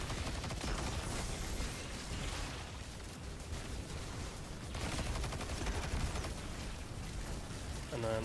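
Dense, continuous gunfire while shooting an unraveled boss in a video game, a steady loud barrage of rapid shots and bursts with no pause.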